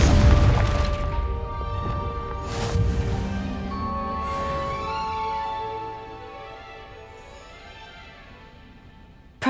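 A Confringo fire spell detonates in Hogwarts Legacy, a loud booming blast at the start that rings out and fades into a sustained tonal tail under game music.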